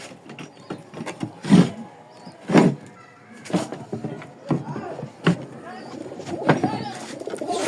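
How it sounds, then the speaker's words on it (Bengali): Pigeons being let out of their loft coo and flutter nearby, with soft wingbeat bursts and calls rising and falling over a low ambient background. "তো কবুতর আগে ছাড়ি"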